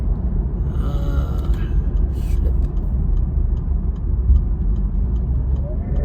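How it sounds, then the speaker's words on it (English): Steady low road and engine rumble inside a moving car in traffic, continuous throughout, with faint regular ticking above it. "It's like I'm running into a bit of traffic here."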